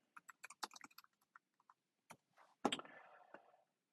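Quiet keystrokes on a computer keyboard come as a run of separate light taps, then a brief faster flurry of keys near the end, close and faint in an otherwise silent room.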